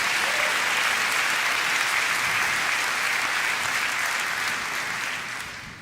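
A church congregation gives a long round of applause, a full, even roar of many hands that holds steady and then gradually fades toward the end.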